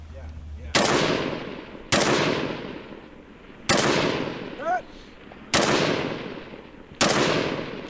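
Five loud, sharp gunshots from a woodland shooting competition stage ring out at irregular intervals, each with a decaying echoing tail, and a brief faint voice-like call sits between shots.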